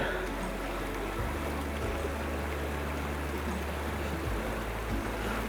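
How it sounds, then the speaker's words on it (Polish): A fast-flowing river current in a trout stream gives a broad, steady rushing wash close by, with low rumbling pulses underneath. "Dosyć szybki, wartki nurt, dlatego trzeba dalej."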